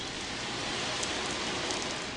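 A wave drum shaken to mimic ocean surf gives a steady, close hiss of rolling beads, even and unbroken throughout with no pauses or talk.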